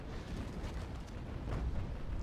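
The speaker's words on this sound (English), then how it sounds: "Centisima's firing off a broadside" Ship cannons in a naval video game rumble through a sustained, loud broadside of overlapping booms, a dense low roar with a slight swell toward the end.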